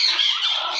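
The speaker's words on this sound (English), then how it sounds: "That's my beautiful, beautiful bird." A pet bird squawks loudly and continuously at close range, a harsh, bright call lasting the whole moment with no talking over it.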